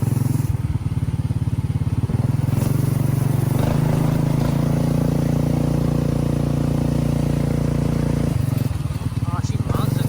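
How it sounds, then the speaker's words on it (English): A 440cc golf cart engine, rated over 16 horsepower, runs at full throttle with a loud, steady roar and mechanical clatter. It dips briefly near the end, and people talk over it. "So we've got full throttle there."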